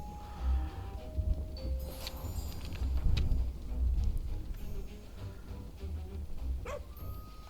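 A dog's barking and yipping in the Overcooked 2 video game, heard as a few short, moderately faint yelps scattered over game music and ambient background.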